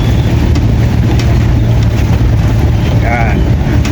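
A motorcycle engine drones loud and close while riding along a muddy farm road at a game farm. Its low hum is steady, with wind buffeting throughout and a voice heard briefly near the end.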